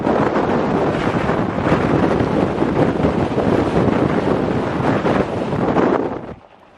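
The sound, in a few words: Ferrari driving on gravel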